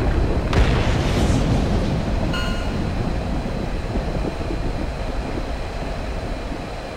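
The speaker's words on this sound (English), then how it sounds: "We picked up that explosion all the way out here." A cruise missile explodes in the video game Ace Combat Assault Horizon, heard from far off as a deep, heavy rumble that swells early and then slowly fades over several seconds.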